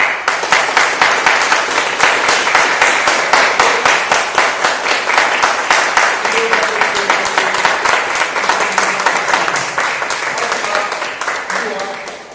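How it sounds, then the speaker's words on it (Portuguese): A Pentecostal church congregation claps together in praise of Jesus Christ, a dense, steady wash of applause that runs loud and unbroken for about twelve seconds, with a voice briefly rising underneath near the end. "Vamos dar uma salva de palmas para o nosso Senhor e Salvador Jesus Cristo?"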